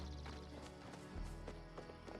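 Horse hooves clip-clop steadily in the video game Palia, a close, even rhythm of soft footfalls over a low game backdrop.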